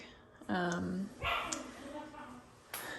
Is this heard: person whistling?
no